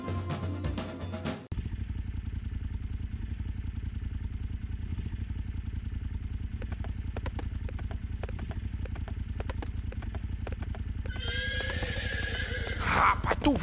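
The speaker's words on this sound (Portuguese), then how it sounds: "lá se foi o meu cavalo." A horse whinnies loudly, then its hooves clatter and drum in a rapid gallop that carries on steadily, with a second neigh and voices near the end.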